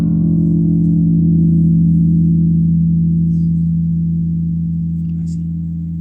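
One long sustained note from a four-string Peavey Cirrus bass made in Indonesia, played through a Nux PA50 amp. It rings steady and loud, then fades slowly across several seconds.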